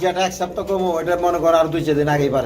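Pigeons coo repeatedly in a loft holding birds with eggs and chicks, their soft throaty calls sounding under a man's steady, close speech.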